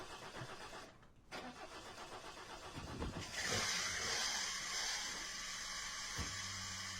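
In a video game, a Toyota Hilux pickup cranks over, stumbling and whirring before catching. Then a rougher, louder engine note comes up and runs on at a moderate level.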